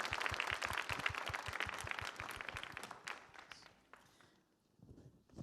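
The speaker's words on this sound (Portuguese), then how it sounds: "Então vamos aplaudir Jesus Cristo" A church congregation at a Portuguese-language service applauds in praise, with steady, rhythmic clapping that runs for several seconds before thinning out and briefly picking up again at the end.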